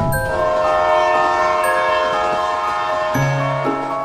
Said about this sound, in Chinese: 这些火车呢都正常的运行啊